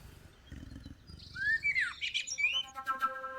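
Noisy bird in the video game Copycat, squawking and chirping in a quick run of rising and falling calls midway through, then trilling tweets over a low, steady game background.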